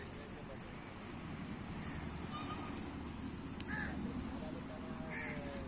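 Crows caw several times at a seashore near a temple, the calls fairly close over a steady wash of wind and surf, with a voice faintly present now and then.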